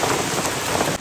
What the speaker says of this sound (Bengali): কত বড় বড় শিল পড়েছে।